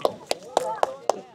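At a church soccer tournament in Atlanta, sharp, evenly spaced hand claps sound about four times a second, with a voice talking beneath them between the claps.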